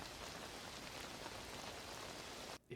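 Rain falling in a ferry-travel scene from the horror film The Ring, a steady dense patter on surfaces that holds evenly and cuts out abruptly near the end, quiet and with no talk.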